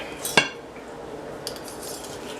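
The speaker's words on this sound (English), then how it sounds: "this is where I want to pull out a whisk" A metal whisk clinks once sharply against a bowl of coleslaw dressing with sugar, followed by faint scraping and a softer tap, near and with no talking.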